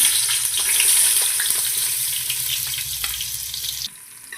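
Onion hits hot oil in a pan and sizzles steadily, a bright hiss that holds for several seconds before cutting off abruptly near the end.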